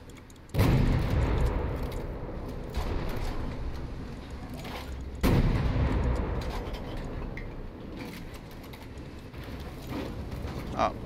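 Bombs blowing up in War Thunder naval battles, two heavy low explosions a few seconds apart, each followed by a long rumbling decay over steady engine and sea noise, with no voices.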